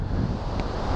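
Strong wind gusts across the microphone at Praia do Magoito beach on the Sintra coast of Portugal, a loud, continuous buffeting roar with surf underneath.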